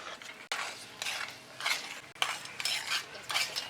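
A spoon stirs peas into an oily onion masala in a pan, giving repeated scraping strokes and a soft sizzle close by, with no talking.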